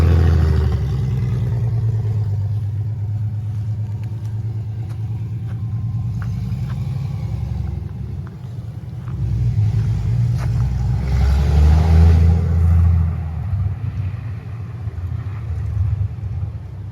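Engine of a 1973 Triumph TR6 rumbles steadily close by, swelling as it revs while the driver shifts gears. Low, continuous throb with some rises.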